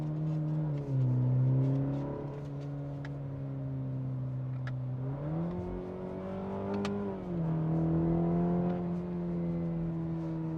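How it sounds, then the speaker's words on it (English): A 2022 Cadillac CT4-V engine revs in manual mode and settles in a steady drone with pitch rising and falling, occasional sharp pops or crackles from the exhaust, heard from nearby. "we're gonna put it in manual mode just so you really hear the crackles."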